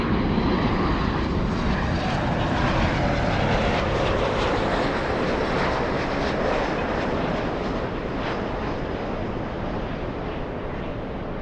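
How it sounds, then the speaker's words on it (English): Lufthansa Boeing 747 in retro livery at Los Angeles LAX, a steady broadband jet engine roar held near and fairly loud throughout, with no talking. "you're just in time to see Yanko Tango 747 Retro Lufthansa."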